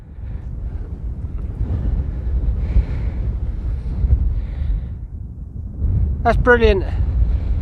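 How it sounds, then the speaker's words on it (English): Wind buffets a microphone out in an open field during metal detecting, a constant low rumbling roar, with a short spoken remark near the end. "The wind is really getting up now."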